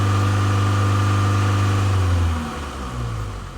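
A Range Rover with a blocked diesel particulate filter holds a steady, loud high rev, then the engine note drops away and settles back to a lower, rumbling idle.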